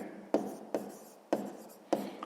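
Pen strokes on paper while working out a sixth-grade maths exercise, four sharp taps with short scratchy trails spaced about half a second apart, close and quiet.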